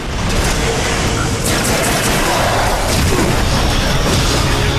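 A squad of suicide bombers blows up in the Too Human video game, producing loud, continuous booming blasts and crashing rumble that fill the whole stretch without let-up.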